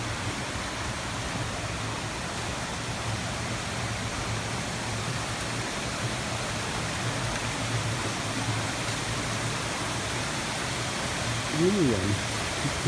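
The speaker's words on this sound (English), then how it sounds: "And here we are at the waterfall." Waterfall on the Black Isle in the Scottish Highlands, a steady, loud rushing roar of falling water that continues unbroken throughout.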